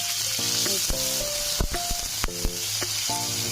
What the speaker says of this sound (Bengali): এটা হালকা করে ভাজা ভাজা করে নেবো